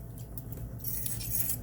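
Chopped onions and peppers tossed together in a bowl or pan, giving a steady soft clatter of utensils and scraping that runs close and continuous with no pauses.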